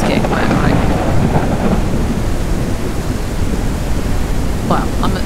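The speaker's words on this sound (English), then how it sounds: "Probably because it's raining, everything's getting wet, right?" Heavy rain and rolling thunder in the survival game Mist Survival form a loud, steady, dense roar of downpour with deep rumbling throughout.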